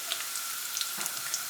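Garlic frying in hot oil in a wok with nigella seeds already tempered, a faint steady sizzle with scattered tiny pops, close but quiet and without speech.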